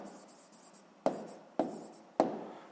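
A pen writing an answer on paper during a sixth-grade maths lesson, three sharp quick strokes after a faint scratchy passage, close and fairly quiet.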